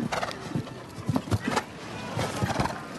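Show-jumping horse Captain Canada moving in an arena at the Calgary Nations' Cup, hooves thudding in an uneven rhythm of dull clops, fairly close, over a soft background murmur.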